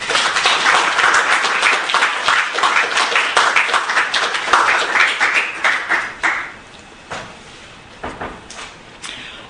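An audience breaks into warm applause to welcome a lecture speaker, dense clapping that holds strong for about six seconds and then thins out to a few scattered claps.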